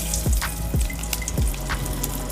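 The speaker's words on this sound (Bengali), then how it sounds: "মাছ ভাজা তেলে দিয়ে দেব তেজপাতা" Bay leaves drop into the hot oil left from frying katla fish, giving a steady crackling sizzle with a few low knocks from a spoon against the kadai.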